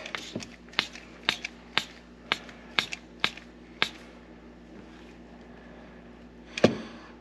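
A hand ratchet cranks during a wastegate actuator adjustment on a Can-Am Maverick X3, giving about a dozen sharp, close clicks in a steady rhythm, a pause, then one last louder click.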